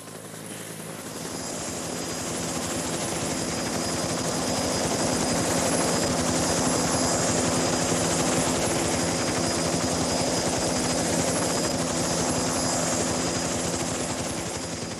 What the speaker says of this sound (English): Sometimes at night a chopper would land.